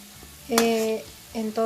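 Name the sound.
gulab jamun frying in oil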